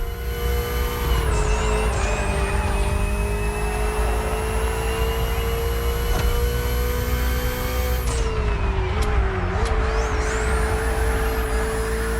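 A BMW Hybrid V8 race car engine in the racing game The Crew Motorfest drones at high, steady revs with a whining tone, briefly dropping pitch around a gear change before climbing again, loud and close throughout.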